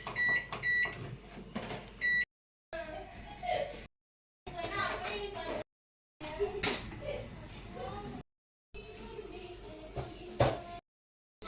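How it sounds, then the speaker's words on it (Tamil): An oven's timer is set to 180 degrees Celsius for 35 minutes to bake a plum cake, with short electronic beeps and button presses in separate bursts as voices talk between them. "ஓகே, டைமர் செட் பண்ணலாம்"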